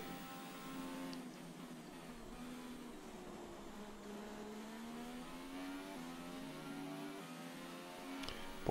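An F1 2017 race car in the video game drives into the pits at Bahrain, its engine a steady droning whine that glides slowly down and back up in pitch, held alone for several seconds.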